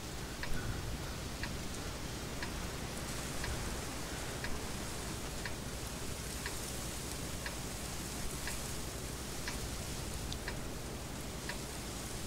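Steady rain in the World of Tanks video game, a dense even hiss with faint scattered ticking drops throughout, no talking.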